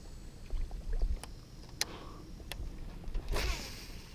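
An electric trolling motor runs on a small fishing boat out on the water, making a rough, unhealthy-sounding whir with a steady low rumble, scattered sharp clicks and a brief rising whine near the end, with no talk.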